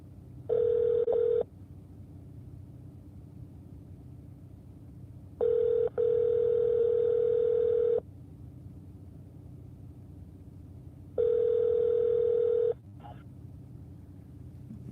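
Ringback tone from a phone call being placed, with three steady tone bursts of about one to two seconds each separated by pauses, heard over a low car-like rumble with no talk.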